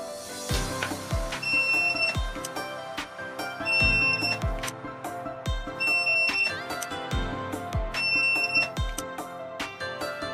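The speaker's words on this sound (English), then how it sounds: "Press the setting button to add a card, the buzzer will sound." A video doorbell access control unit in card-adding mode gives short, high electronic beeps in pairs, repeating every couple of seconds over rhythmic background music with drum hits. No one speaks.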